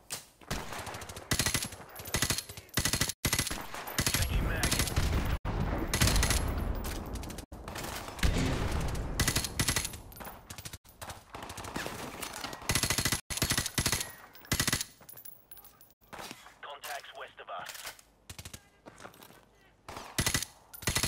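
Machine gun fire in Call of Duty 4, with long, loud automatic bursts broken by short pauses and mixed with battle noise throughout.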